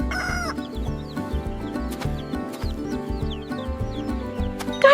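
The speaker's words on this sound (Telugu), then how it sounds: "కరెక్ట్, అదొక కోడి" Chicken clucking among farm animal sounds, with fowl calls over steady background music throughout.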